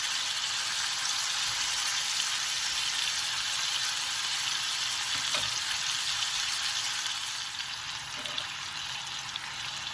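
Spicy Korean skirt steak sizzles steadily on a grill, a continuous close hiss holding for the full stretch with a faint dip near the end.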